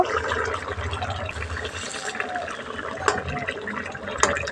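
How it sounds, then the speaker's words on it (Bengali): Water splashing into a pan of spiced potatoes, a continuous close liquid pour and gush for several seconds with a few sharper clinks near the end. "পরিমাণ মতো দিচ্ছি জল জল দিয়ে দিচ্ছি"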